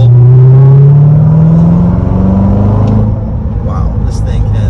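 An Infiniti sports car accelerating hard in third gear, with a loud, rising engine drone that climbs steadily, then eases into a lower steady rumble as the pull ends, heard from inside the cabin.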